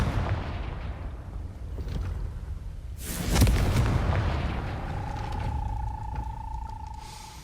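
A Confringo blasting spell explodes in Hogwarts Legacy as one loud, sharp blast midway. A deep rumble follows and trails off into a lingering hum. No voices are heard.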